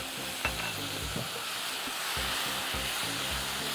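Soy sauce and chili sauce cook in a hot pan, sizzling steadily while a utensil stirs and scrapes in a few soft, irregular strokes close by.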